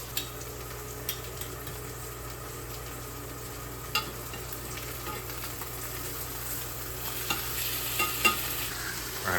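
A steak sears in a hot pan, giving a faint steady sizzle with occasional soft pops and spatters over a constant low hum, heard from a short distance with no talking.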